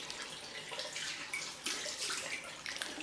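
Cold water runs from a tap for rinsing during a head shave, a soft, steady hiss of flowing water with small splashes, fairly quiet and without speech.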